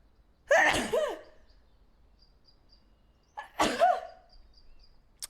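Two loud, close sneezes a few seconds apart, each with a sharp sucked-in breath before the forceful burst, and a faint high beeping in the gaps.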